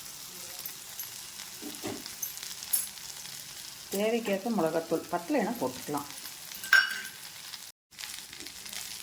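Tomatoes frying in a pan with turmeric, chili and coriander powder, a quiet low sizzle with occasional stirring clinks, partly under a voice speaking Tamil.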